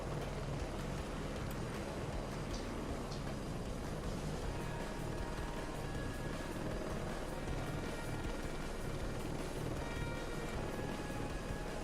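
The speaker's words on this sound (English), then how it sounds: "That's what you get for shooting at a very, very angry scout chopper." A scout helicopter flies in a video game, its thick, constant rotor and engine roar filling the whole stretch at a steady, loud level, with faint scattered game noise underneath.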